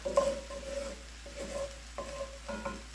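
Leftover rotisserie chicken fried rice sizzling and being stirred in a pan, with a steady low fry and repeated scraping clinks of a utensil against the pan, close and moderately loud, with no talking.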